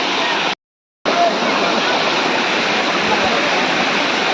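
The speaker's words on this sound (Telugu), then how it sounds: "ఆ సౌండ్ కి, ఆ ఫ్లో ఆఫ్ వాటర్ కి మస్తు భయమైంది నాకైతే" Katiki waterfalls roar in a loud, steady, dense rush of falling water heard up close, broken only by a brief moment of total silence near the start.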